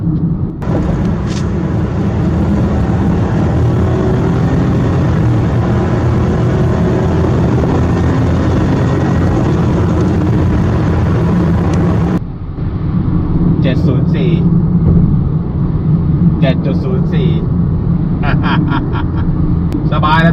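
A Honda City 1.0 SV turbo sedan accelerates, heard from inside the cabin as a loud, steady engine drone with road rumble; the drone drops to a quieter cruise about two-thirds through, with a few faint clicks.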